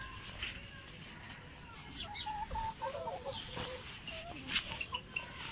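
Several hens clucking nearby in short, irregular bursts, with occasional higher squawks and faint chick peeps mixed in.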